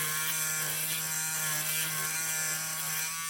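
A wireless Peggy's Stitch Eraser buzzes steadily and continuously as it cuts bobbin threads on an embroidery, a close, even electric hum like a small shaver.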